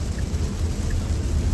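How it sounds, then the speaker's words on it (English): Rain drums steadily on a moving car driving at highway speed, a constant broadband wash of droplets and road noise heard from inside the cabin, with no talking. "And again, some rain, it's gonna, be too much."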